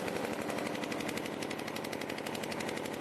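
Heavy automatic gunfire in a battle as Iraqi troops, backed by US-led coalition airstrikes, advance on the town of Bezwaya near Mosul; dense, continuous bursts of machine-gun fire rattle without pause, loud and close, with no talk.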